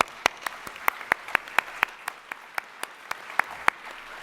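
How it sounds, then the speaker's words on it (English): Applause at an ICA awards ceremony as new fellows are inducted: sparse, evenly spaced individual claps with a crisp, rhythmic beat, sounding like only a few people clapping in a large room. "Applause."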